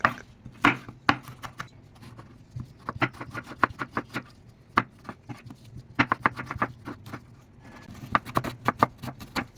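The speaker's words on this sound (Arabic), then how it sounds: "هنبدأ نقطع الخضار جوليان او نقطعه شرايح" A knife chops vegetables into julienne strips on a cutting board for oven-grilled fish, giving crisp, close, fairly quiet strokes in quick irregular runs broken by short pauses.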